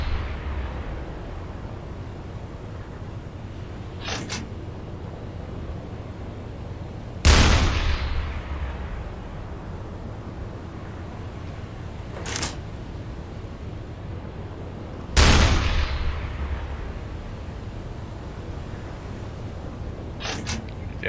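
A U-boat's deck gun fires in rough seas in the submarine game UBOAT: five widely spaced reports. Two are loud, booming blasts with a long ringing decay, and the others are sharper and fainter, all over a steady sea and wind rumble.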